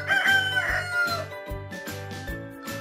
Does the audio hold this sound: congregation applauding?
no